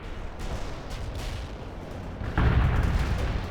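Booming artillery and gunfire in the video game World in Conflict, with a dull rumble of distant fire that swells into a heavier, louder barrage near the end, and no voices.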